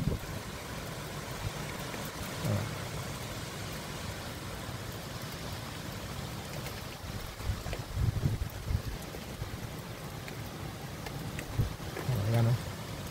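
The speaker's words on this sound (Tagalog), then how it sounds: "Lakas talaga ng hangin" Strong wind from Typhoon Opong in the Philippines, a constant loud roar buffeting the microphone with rain-like hiss and occasional low gusts and thumps throughout.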